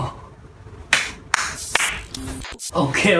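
A few scattered hand claps for a Timor rap crew, sharp and fairly close, breaking through background music and voices during a rap reaction session.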